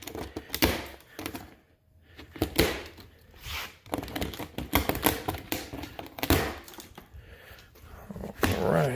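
A knife slicing open cardboard boxes while unpacking new wheels, scraping and tapping cuts in uneven bursts close to the microphone, with someone talking over much of it.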